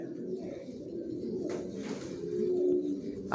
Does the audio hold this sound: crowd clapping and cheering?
no